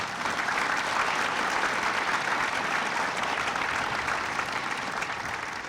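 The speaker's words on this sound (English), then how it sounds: "Please applaud these people for the work they've done." Audience members at a ribbon-cutting ceremony for a grid storage laboratory give sustained applause, a thick, even wash of many hands clapping at constant loudness from start to finish with no pauses.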